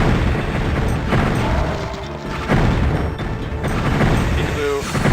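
Several booming blasts from pod-like exploding barrels in the video game Heretic go off at irregular intervals over continuous game noise, each burst loud and crunchy.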